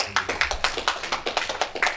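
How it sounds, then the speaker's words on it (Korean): A church congregation claps together at a Sunday worship service, a rhythmic run of about ten sharp, evenly spaced claps, fairly close and steady, with no voices over it. "우리의 찬양을 기뻐 받아 주신 우리 하나님께 박수로 영광을 드립니다"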